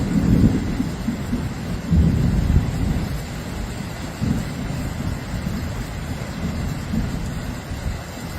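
A sudden violent storm, part of a giant hailstorm, sends low thunder rumbling in repeated swells over a steady wash of heavy rain and wind, loud and continuous.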